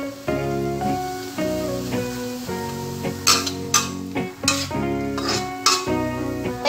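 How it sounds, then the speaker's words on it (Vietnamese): A spatula stirs and scrapes vegetarian fruit fried rice in a frying pan, giving repeated scraping strokes with a light sizzle under steady background music. "Thỉnh thoảng thì mình cũng dùng cái sạn để mình xới đều cái phần cơm ở trong chảo."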